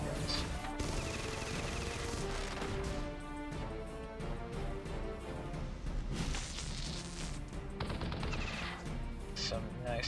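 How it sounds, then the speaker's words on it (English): Battle Nations video game combat: dense, overlapping shotgun blasts and rapid machine-gun fire with crashing impacts over a steady game soundtrack, continuous and close. "And we will shotgun to begin with again. And we'll kill him again with the machine guns."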